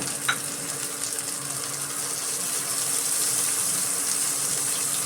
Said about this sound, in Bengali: এগুলো সব একসাথে নেড়ে করে একটু ভাজা ভাজা করে নেব।